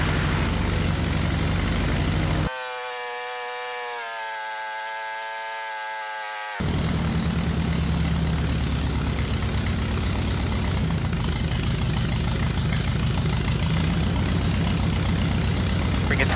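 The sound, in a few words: light airplane piston engine idling during first test run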